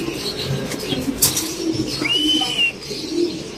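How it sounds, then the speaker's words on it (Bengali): A racer pigeon coos softly at close range, with a few low throaty calls and a brief flutter of wings against a quiet indoor background. "রেসার একটা কবুতর,"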